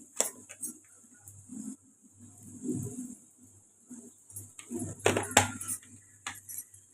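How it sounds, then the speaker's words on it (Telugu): Metal spoon scraping and clinking against a pan while spices like chilli powder and coriander powder are stirred into ivy gourd fry, soft irregular clinks and scrapes, fairly quiet, with no talk. "ఇప్పుడు బాగా కలుపుకుంటాం"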